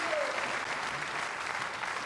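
A crowd at a Weber Cup ten-pin bowling match in Barnsley applauds loudly and steadily after a strike, with a commentator talking over the clapping.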